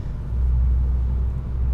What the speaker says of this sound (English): driving along at 45 mile an hour, you can hear there's a bit of drone